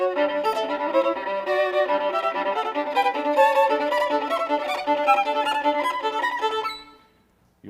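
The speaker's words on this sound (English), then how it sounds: "You will hear some, I think, pretty extreme dissonance like this." A dense, extremely dissonant passage of music by composer James Lee, from the piece Just Love, plays loud and continuous with clashing pitched layers, then fades to near silence in the last second.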